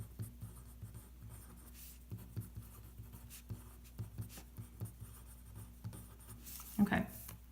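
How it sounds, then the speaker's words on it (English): A pen or pencil scratches on paper while a trigonometry identity is worked out, giving soft, faint, intermittent strokes over a quiet room hiss. "I guess I can go ahead and write the right side down."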